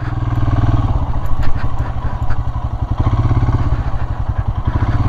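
A Royal Enfield Himalayan motorcycle rides off-road on a forest trail into elephant territory, its single-cylinder engine thumping in a fast, close, steady pulse with some rattling clatter.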